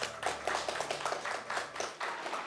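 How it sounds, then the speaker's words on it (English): An audience claps after a spoken-word performance at a wood sculpturing cultural workshop, with a quiet, fairly sparse patter of hand claps throughout and no clear talk. "Keep the applause going, ladies and gentlemen."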